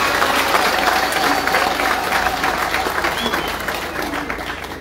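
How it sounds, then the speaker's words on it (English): A political rally crowd in Zambia claps for the MMD party joining the UPND alliance, steady dense applause from many people that tapers gradually over several seconds. "I want us to clap for the MMD."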